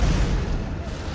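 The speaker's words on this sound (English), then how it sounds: "It's another artillery strike." An artillery strike explodes in a dramatic TV scene as a deep, heavy boom and low rumble rolls on for about a second, loud and close.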